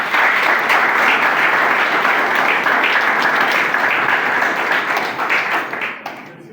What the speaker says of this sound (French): Monsieur le Président François Dombian, que je vous demande d'applaudir